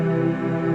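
A single sustained chord in closed-position voicing rings out on a keyboard, its notes held steadily together and sounding clear and fairly loud for under a second with no talking.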